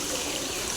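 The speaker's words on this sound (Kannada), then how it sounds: "ಅಲ್ಲಿಂದ ಎಲ್ಲ ನೀರು ಬೀಳ್ತದೆ ನೋಡಿ" Water flowing down from beside a hillside temple, a steady close rushing and trickling stream that holds an even, continuous level throughout.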